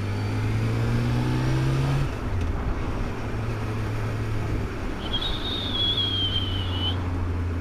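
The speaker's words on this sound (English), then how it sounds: "I love the sound of these Hondas." Honda car engines rev and roar past nearby at a petrol station under a steady road drone, with one rising and falling whine and a high tone near the end.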